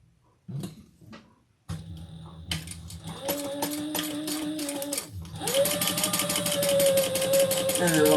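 A sewing machine stitches down each side of a leather and vinyl bag connector strip, starting with a few clicks, then running in bursts of loud, steady whirring with a brief pause before a final faster run.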